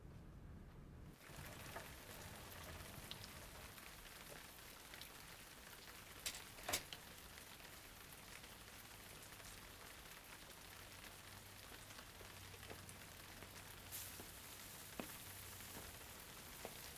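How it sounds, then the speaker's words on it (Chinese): Rain falls steadily in a film scene, a soft, even hiss of drops on surfaces that carries on quietly throughout, with a couple of brief louder knocks and no talking. "下雨了"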